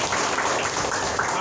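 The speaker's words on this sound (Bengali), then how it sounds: "একটু তালি দিবেন না?" Audience applause at a Sonali Life Insurance company gathering in Eidgaon, a steady dense patter of clapping filling the whole short stretch at an even level.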